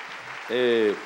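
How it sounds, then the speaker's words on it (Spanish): Steady applause from a church congregation fills the moment while a voice rings out briefly over the clapping. "Démosle palmas al Señor de la gloria por su misericordia y su gran amor"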